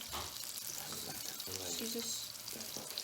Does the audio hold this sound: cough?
no